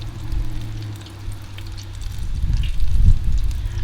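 Breaded fish fries in hot oil in a cast iron Dutch oven, giving a loud, continuous bubbling hiss over a low hum that swells toward the end, heard up close with no speech.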